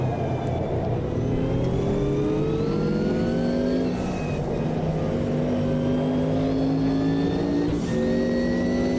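Racing car engines in Automobilista 2, an endurance sim race, rev and shift with rising and falling whines over a steady rumble, several cars layered close and loud with no talking.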